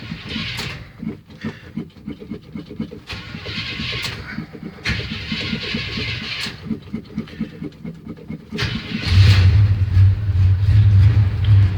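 An old GMC truck that sat unused for over fifteen years cranks in repeated choppy bursts with pauses, then catches near the end and settles into a loud, deep, rumbling idle.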